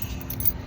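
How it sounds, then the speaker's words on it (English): House keys jangle in a short, close, continuous metallic rattle, left for a locksmith who is rekeying the locks on a house. "The guy left me the keys right here."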